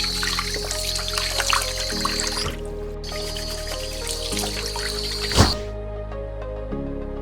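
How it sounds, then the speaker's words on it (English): Cold tap water trickles and drips while raw shrimp are rinsed, a steady wet splashing with a few brief louder spatters, close and alone with no talk. "Rinse with cold water again."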